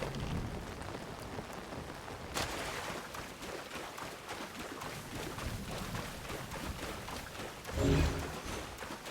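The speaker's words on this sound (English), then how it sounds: "For a second, I heard the thunder, but it's in-game." Steady rain patters throughout an in-game scene, broken near the start and again near the end by louder rumbling bursts of thunder, with no talking.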